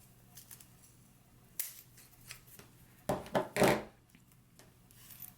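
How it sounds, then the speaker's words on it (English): Pinking shears cut through a zipper while shortening it for a jumpsuit sewing project, giving a few quiet snips and rustles and then two or three louder, close crunching cuts near the end, with no talking. "I'm just gonna use my pinking shears and I'm going to cut there."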